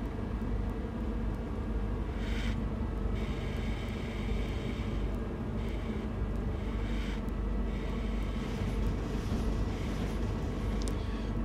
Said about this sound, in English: for that train to come through